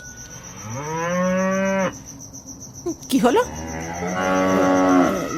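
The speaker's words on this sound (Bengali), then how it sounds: "গরুগুলো গরুগুলো এইভাবে চিৎকার করছে কেন" Two long, loud cartoon cow moos, each swelling and then cutting off, with a brief spoken exclamation between them.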